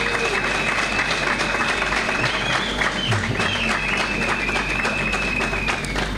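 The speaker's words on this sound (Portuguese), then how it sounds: "queria uma salva de palmas bem forte para o Salomão Moiana" An audience in a hall in Mozambique gives a loud, sustained round of applause for Salomão Moiana, dense clapping over a steady hum, with a faint voice mixed in.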